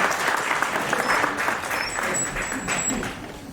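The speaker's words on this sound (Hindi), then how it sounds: "एक बार जोरदार तालियों से इन सभी विजेताओं का मनोबल बढ़ाएं।" A crowd at an Indian Sign Language Day celebration claps for award winners in sustained, moderately loud applause that tapers slightly toward the end.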